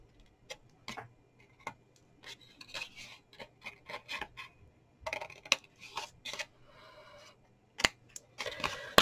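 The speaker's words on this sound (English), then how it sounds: "cut down to that mark and give them a wee trim" Scissors trim paper for a hot chocolate treat box in a series of crisp, close snips and short rasping cuts, arriving in irregular bursts separated by brief pauses, quiet and alone without speech.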